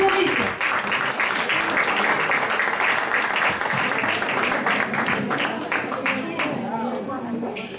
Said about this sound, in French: On applaudit Maurice.